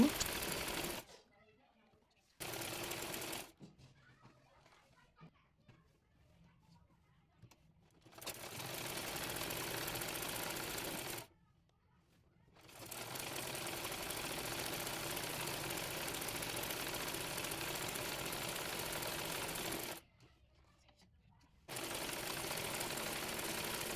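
A sewing machine stitches a kameez in several long, steady runs of close, even mechanical whirring, separated by brief silent pauses.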